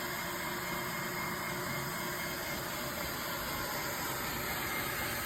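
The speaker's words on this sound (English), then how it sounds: "It's gotta build pressure in the tank, so it'll take more time to get extra steam." A Tineco Floor One S5 or Shark steam mop hisses steadily as it builds pressure and releases steam, a continuous broadband rush with a low engine-like rumble underneath and no speech.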